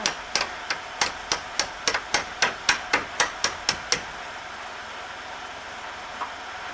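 A hammer knocks out a truck cab mount bushing with about fourteen sharp, ringing metallic blows in a fast, steady rhythm, close and loud, then stops and leaves a quiet workshop.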